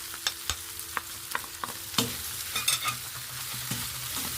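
Sausages with harissa, chili, spices and salt sizzle in a pan while a utensil stirs them, giving repeated scraping clicks over a steady fry, close and fairly quiet, no speech.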